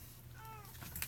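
A house cat gives one short, rising meow close by, clear and fairly soft over a low room hum.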